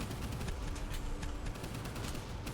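A Bofors gun firing in the naval video game Boat Crew, a steady rapid stream of heavy shots packed tightly together, loud and continuous from start to finish.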